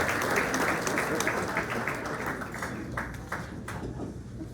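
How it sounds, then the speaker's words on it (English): A community breakfast audience claps for Chad, a newly promoted sheriff, in a sustained round of fairly faint applause with some sharper individual claps standing out. "Let's give Chad a round of applause"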